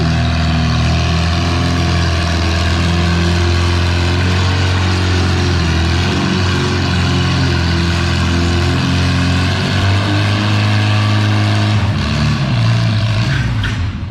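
Farmall C pulling tractor at a fall nationals tractor pull in the 3200 lb ladder bracket class, its engine a loud, steady, close roar that holds throughout and rises in pitch near the end.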